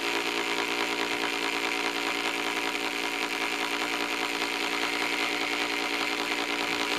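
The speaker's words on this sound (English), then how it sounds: "The motor's running." A Lynx Joule motor runs in a steady, continuous loud hum with a dense mechanical buzz, holding constant throughout with no pauses.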